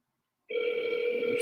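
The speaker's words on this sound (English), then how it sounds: "Keep calling, see what's going on." A phone call ringing out toward voicemail, a steady electronic tone starting abruptly after a moment of silence and holding evenly, close and clear.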